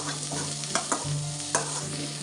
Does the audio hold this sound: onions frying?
yes